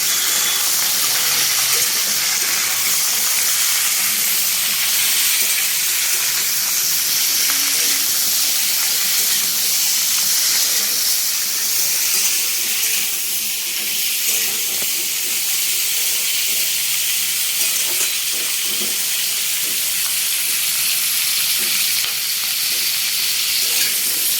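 Cauliflower, potatoes and other vegetables fry in a pan for dalia khichuri, producing a loud, steady hiss and sizzle that holds close and unbroken for the whole stretch.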